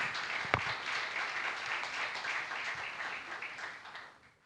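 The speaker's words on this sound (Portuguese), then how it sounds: "Mais palmas ao Espírito Santo, que isso é um mover dele." A church congregation applauds during a worship service marking a thirtieth anniversary. The clapping is steady and full, with one sharp clap standing out early, then it gradually thins and fades toward the end.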